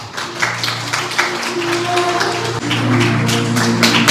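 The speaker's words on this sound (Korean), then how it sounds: "긴장되는 발걸음을 여러분들께서 따뜻한 박수로 감싸주시길 바라겠습니다." Wedding guests clap warmly as a bride and groom make their entrance, a steady wash of applause running throughout, with sustained music or tones and faint voices beneath it.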